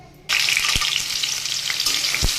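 Boiled taro hitting hot oil with cumin, a quiet moment bursting into a loud, steady frying hiss with a couple of low thumps from the pan.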